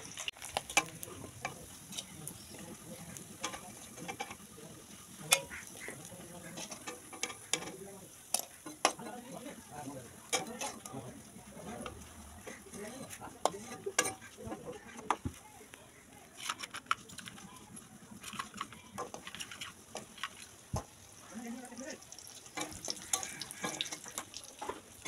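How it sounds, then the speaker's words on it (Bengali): Fish frying in a pan gives a faint, continuous sizzle with frequent small ticks and crackles of spattering oil over about twenty-five seconds, with no speech. "এদিকে হচ্ছে মাছ ভাজা।"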